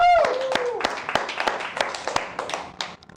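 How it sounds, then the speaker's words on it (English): A few people clap in uneven, sharp bursts, a small group close by, with a cheer or voice at the start and the claps thinning out toward the end. "I think that deserves a round of applause."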